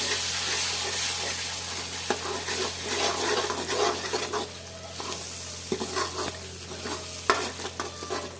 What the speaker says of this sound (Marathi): मिक्सरमधला मसाला आहे तो पण तेलात परतून घ्यायचा